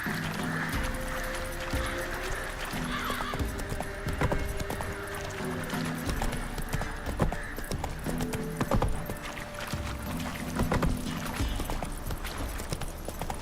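Horse hooves clip-clop at a steady gallop in Witcher 3, loud and close, with rhythmic thuds continuing for over ten seconds alongside faint tack jingling, music and occasional whinnies.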